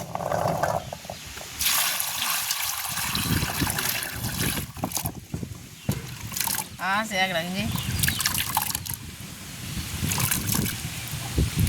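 Gooseberries being washed by hand in a container of water, with steady sloshing and trickling close up while a person talks over it.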